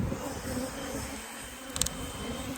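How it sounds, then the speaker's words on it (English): Honey bees buzz around hive supers at a honey harvest, a steady, moderately close drone of many insects, with a few brief clicks near the end and no talking. "Looks like we have some bees up there"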